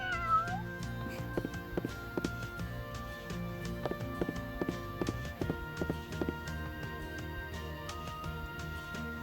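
A cat meows inside the video game Arc the Lad: Twilight of the Spirits, repeated mews heard over game music and clopping footstep effects.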